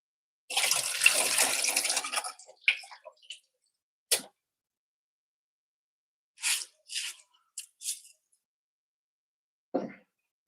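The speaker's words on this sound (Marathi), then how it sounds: "आता याचं मी पाणी काढून घेते" Water is poured off soaked rice in a quick, close splashing stream lasting about a second and a half, followed by scattered short trickles and drips separated by silence.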